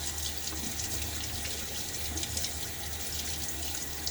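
Water runs steadily from a tap as shaving cream is rinsed off hands, a continuous close rushing flow with no talk over it.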